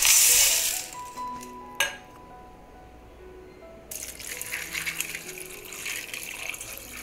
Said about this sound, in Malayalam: കുറച്ച് വെള്ളം ഒഴിച്ച് കൊടുത്തിരിക്കുകയാണ്